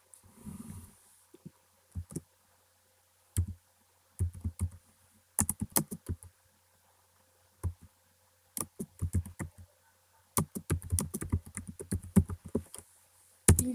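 Typing on a computer keyboard in short irregular bursts of close, dry key clicks separated by quiet pauses, with no talking.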